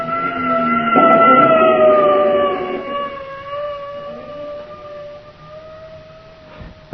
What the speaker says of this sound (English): And then it was gone, an ambulance, going right past me.